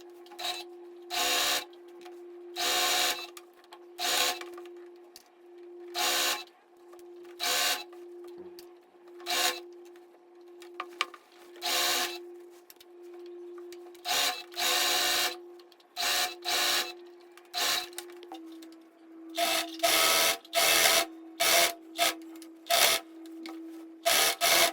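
A sewing machine stitching a blouse runs in short, repeated bursts of rapid mechanical whirring separated by brief pauses, with a faint steady hum between bursts and no talk.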